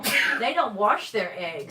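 A single sharp sneeze cuts through ongoing conversation during a live homestead chat about washing eggs; voices talk before and after it at close range.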